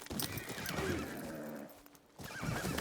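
A horse in the video game Ghost of Yōtei whinnies loudly up close over steady hoof clip-clops, with game ambience running throughout.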